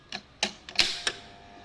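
A 5 hp motor starter contactor is switched on with a quick cluster of sharp mechanical clicks and clacks, close and fairly loud, spread over about a second.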